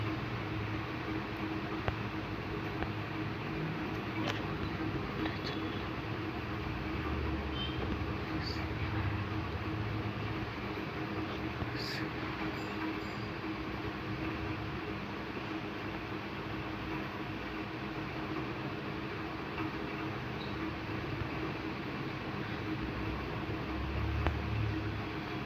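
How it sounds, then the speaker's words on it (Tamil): A train rolls along and slows toward a stop, giving a continuous loud rumble and hiss of rail noise with faint clanks and squeaks throughout, heard from inside the carriage without speech. "ட்ரெயின் தான் நிற்க போகுது."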